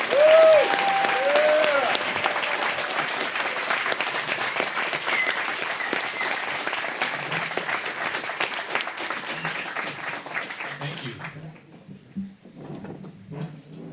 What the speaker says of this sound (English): give a warm, rousing applause for the next state representative in Western Illinois, John Curtis